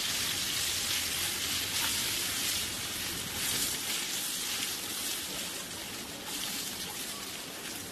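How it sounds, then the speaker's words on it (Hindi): Green chillies cooking in a covered pan over medium-low flame for an instant Rajasthani pickle, giving a steady, dense sizzle and hiss that runs through the whole stretch with no voices. "मिर्च को दोबारा से ढककर 2 मिनट के लिए और कुक करेंगे।"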